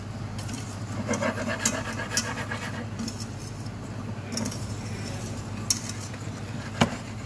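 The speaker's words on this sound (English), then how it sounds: "I will start to stirring just to, let's say, unify all the ingredients." Ingredients for sweet tortellini get stirred in a pan, with continuous scraping and rubbing of a utensil against the pan and a few sharper clicks and taps near the end.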